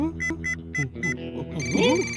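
A telephone rings in the animated cartoon Motu Patlu with a bright electronic ringtone, chiming four times in a steady rhythm before a voice speaks over the end.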